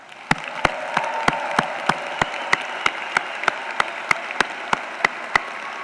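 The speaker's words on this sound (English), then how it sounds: "let's give them a big round of applause" Applause from the audience at a University of Central Florida spring commencement ceremony: steady, dense clapping throughout, with sharp regular claps standing out above the crowd.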